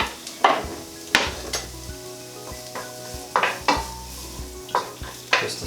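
Onion and garlic sizzle in a hot frying pan, with a steady frying hiss broken by roughly six sharp scrapes and clatters as a utensil stirs them against the pan, close and clear.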